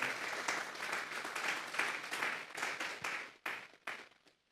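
A congregation at a Sunday church service gives a round of applause, dense clapping that holds steady and then thins out into a few scattered final claps, heard at a moderate distance.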